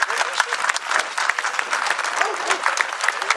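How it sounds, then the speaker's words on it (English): Outdoor crowd at a veterans monument in Estes Park applauding Blue Star families, dense steady clapping from many hands filling the whole stretch, fairly close and even, with a few voices mixed in. "Give them a round of applause."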